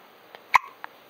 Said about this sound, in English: Oh, you got hiccups? You got hiccups?